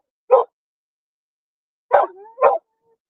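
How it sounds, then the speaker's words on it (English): A dog barks three times outdoors, sharp and fairly close, with a single short bark followed by a pause and then two quick barks, one trailing into a brief whine, otherwise silent. "What are you barking for? Get over here."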